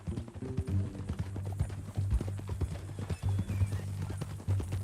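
Horse hooves clip-clop at a steady walking rhythm in Red Dead Redemption 2, close and clear over low ambient hum, with a brief whinny-like touch.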